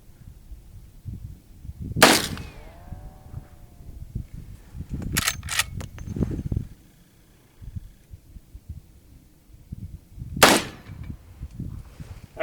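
Gunshots strike steel brake plates outdoors: three or four sharp, loud cracks spaced irregularly, two close together in the middle, separated by quiet rustling and handling noise.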